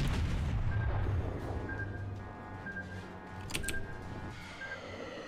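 Naval gunfire from the Japanese cruiser Aoba in World of Warships, a heavy booming salvo with a rumbling low tail, then a sharper crack or two later, heard alone without talk.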